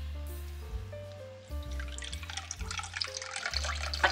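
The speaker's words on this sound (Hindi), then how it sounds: "अच्छी तरह आपने इसको ऐसे दबाना है ताकि इसका पानी अच्छी तरह निकल जाए" Water drips and trickles from freshly made paneer as it is squeezed by hand in a cloth during rasmalai preparation, a steady wet dribbling over a low background hum.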